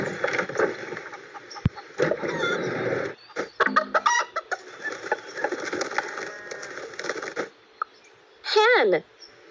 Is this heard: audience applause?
no